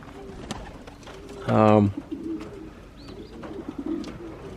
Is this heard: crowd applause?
no